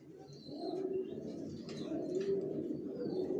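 Racer pigeons coo softly and steadily at close range in a pigeon loft, with faint chirps from other birds behind them.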